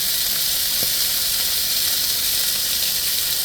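Beef pieces browning in a hot pan for vegetable beef soup, a steady hissing sizzle held at an even level, with a faint brief squeak near the start.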